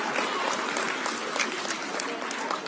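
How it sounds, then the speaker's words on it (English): Sustained audience applause at a political party gathering, a dense steady wash of clapping from a crowd that holds even and fairly loud throughout without pause. "Can we give a round of applause to Jamie?"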